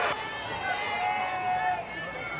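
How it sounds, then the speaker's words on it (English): Elementary school kids chattering and cheering at a BYU women's college softball game, a high-pitched mass of young voices carrying steadily from the stands, with no individual speech standing out. "a lot of that chatter you hear is all the elementary school kids in town that cheer on BYU"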